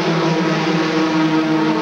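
Formula 3 race cars at the 1992 Macau Grand Prix street circuit make a loud, continuous, high-revving engine roar, unbroken and without commentary.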